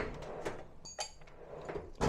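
A cupboard door in a home garage thuds and clicks a few times, sharp knocks close to the listener with faint shuffling between, no speech over it.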